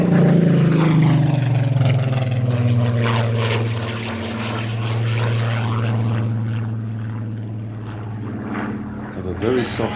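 A propeller aircraft drones loudly overhead at an air festival, a steady rumbling engine tone that slowly swells and fades, with people talking nearby throughout.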